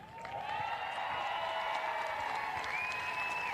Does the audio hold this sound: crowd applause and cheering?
yes